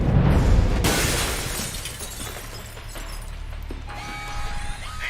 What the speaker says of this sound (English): But you might be able to find a way to break the glass.